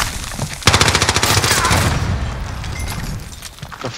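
Rapid automatic gunfire erupts in Call of Duty Warzone, a dense loud burst of shots that rolls into an echoing tail over about three seconds, close and dominant.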